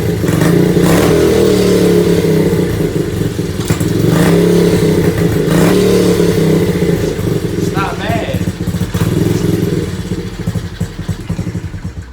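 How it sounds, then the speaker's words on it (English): A small pit bike engine starts and revs indoors, loud and close, its rough idle rising and falling in bursts, while someone talks over it. "Let's see a little startup before I go and remove all the gas tank and stuff."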